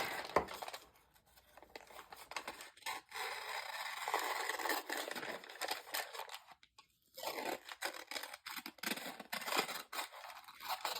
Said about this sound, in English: And I'll just cut the rest.